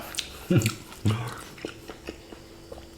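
Someone crunches close to the microphone on a spicy Thai frog and tadpole curry with vegetables, with a couple of loud bites followed by softer chewing, and a voice is heard quietly alongside.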